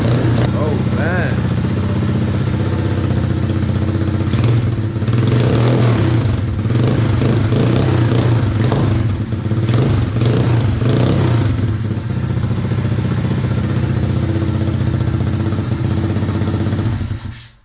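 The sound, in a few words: Hawk 110cc ATV engine running and revving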